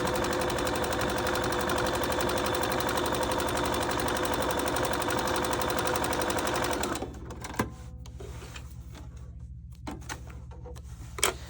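A sewing machine stitches a line across a tote bag in a steady, fast rhythmic whir for about seven seconds, then stops, leaving quiet room noise with a few faint clicks and handling sounds.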